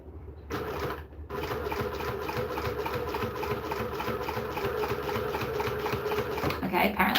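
A new sewing machine topstitching fabric at a longer stitch length, running in a steady, fast, even mechanical rattle after a brief start, loud and close throughout.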